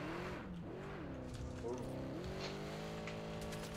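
Engine drone of a buggy in a video game, with a sustained revving tone that shifts pitch up and down as it drives, playing continuously at moderate level with some speech in the background.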